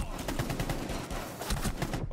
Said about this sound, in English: Is he shooting?